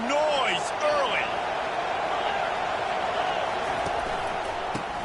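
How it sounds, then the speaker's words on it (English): Stadium crowd at a homecoming football game gives a steady, loud roar throughout, with whistle-like tones and shouts near the start and a sharp accent near the end. "This crowd bringing the energy and noise early."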